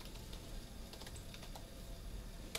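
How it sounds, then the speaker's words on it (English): Fast, steady typing on a computer keyboard running a Windows 10 Pro machine with only 512MB of RAM, crisp close key clicks in an even patter with no voices. "the generic phrase that we all love is about to be typed in here"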